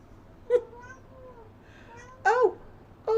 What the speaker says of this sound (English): I have a cat here who wants to speak on behalf of all the black animals